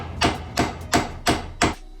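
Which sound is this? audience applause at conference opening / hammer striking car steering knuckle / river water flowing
hammer striking car steering knuckle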